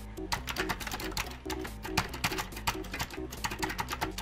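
Keys clatter in a steady, fast run of sharp clicks on a computer keyboard that is malfunctioning in a large PC gaming setup, close and fairly loud, with a low electronic hum underneath.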